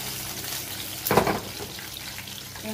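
Chilies sizzle and crackle steadily in hot oil in a kadai, with a brief louder burst of spattering as something hits the pan; no talking.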